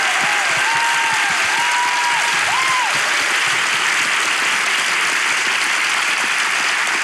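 Studio audience applause on a Turkish relationship-quiz comedy show: steady, loud, dense clapping throughout, with a faint tonal whistle or music line weaving over it early on.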